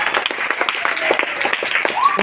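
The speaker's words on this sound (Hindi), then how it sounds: "इनके लिए ताली बजाइए आप लोग।" An audience claps for students who became doctors at an educational awareness programme held at a school; scattered, fairly dense clapping keeps going steadily throughout, with some crowd murmur beneath it.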